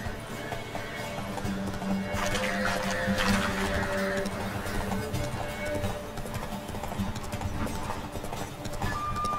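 Horse hooves clip-clop in a fast, continuous rhythm, fairly loud and close, mixed with other clattering background noise.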